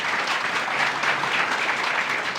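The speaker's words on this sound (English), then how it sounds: "Let's give them a round of applause." An audience at a grand opening of a company headquarters claps together, steady and dense, filling the room at a close, even level.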